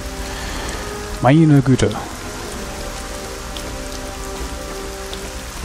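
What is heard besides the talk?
rain falling in the video game Arcania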